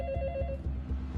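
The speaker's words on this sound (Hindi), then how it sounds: "डॉक्टर सैम को फोन लगाओ" A telephone rings in short repeated bursts, a steady electronic bell pattern with a faint tone, fairly close and with no voices.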